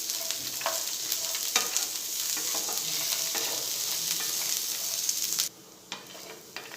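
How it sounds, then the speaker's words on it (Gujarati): Sliced onions sauté in oil over a low gas flame, giving a steady, close sizzle with the occasional stir and scrape, then dropping to a quieter hiss near the end. "ગેસ આપણે સ્લો જ રાખીશું ને સ્લો ગેસ પર કાંદાને થોડા સોફ્ટ થાય ત્યાં સુધી આપણે સાતરી લઈશું"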